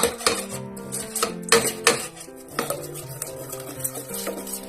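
A spoon scrapes and clinks against a metal pot while stirring curry paste into coconut cream for a vegetarian curry, in a steady series of close, loud strokes with no talking.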